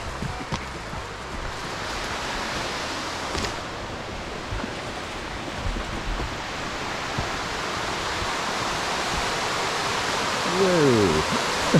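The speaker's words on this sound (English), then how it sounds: "I hear waterfall." Waterfall in the North Carolina mountains near Brevard, a steady broadband rush of falling water heard from some distance, continuous and moderately loud, with a few faint knocks and a brief voice near the end.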